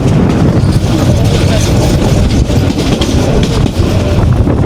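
Agnibina Express passenger train running on the rails toward Mymensingh division, a loud, steady, continuous rumble with clattering wheel noise heard from onboard.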